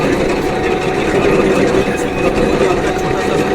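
A shaper machine with a crank and slotted lever mechanism runs steadily, giving a continuous, fairly loud mechanical drone without breaks.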